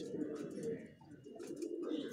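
Soft, low pigeon coos repeat throughout, fairly quiet and close.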